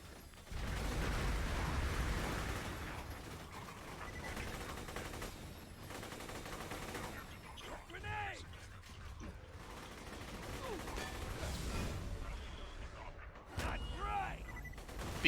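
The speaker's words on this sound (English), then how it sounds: "It's also got the spinny gun barrel, which means, of course, naturally, it's going to increase its fire rate the longer you fire it." A Lead Storm minigun with a spinning barrel fires continuously in Borderlands 2, making a dense, steady stream of rapid gunfire mixed with explosions and mechanical whirring that carries on for the whole stretch.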